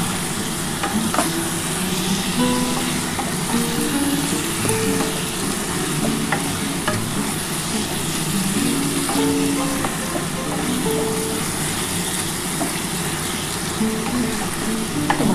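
Ari (rita) fish for a meat-style kalia is fried and stirred with spices in a pan, a steady close sizzle running throughout with soft scraping stir strokes and no talk.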